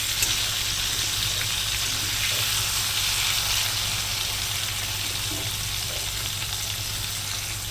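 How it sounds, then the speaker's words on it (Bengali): Slices of carambola (star fruit) fry in a pan for a sour lentil dal, giving an even, continuous sizzle of hot oil that holds steady throughout with no voices over it. "আমার কামড়াটা ভাজা হয়ে গেছে"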